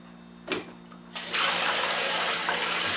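A tap turns on after a couple of faint clicks, and warm water gushes steadily and loudly into a sink for bread dough, a close, continuous rushing stream.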